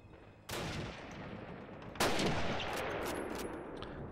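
Call of Duty gunfire erupts in two heavy bursts, the first half a second in and the second, louder one two seconds later, then rattles on in dense, close automatic fire with no talk.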